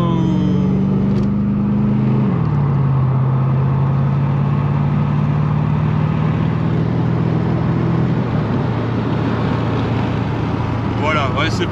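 A 1987 Corvette C4 with the 350 TPI (Tuned Port Injection) V8 runs steadily up close, a loud low engine tone that drops in pitch around two seconds in and settles, with a voice heard over it.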